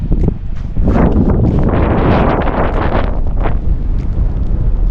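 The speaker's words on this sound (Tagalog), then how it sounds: "Medyo mahangin, so I'm not sure kung maririnig niyo ako." Strong wind buffeting the microphone outdoors on a snowy day in a residential area, a loud continuous roaring rush with gusty swells and no pauses.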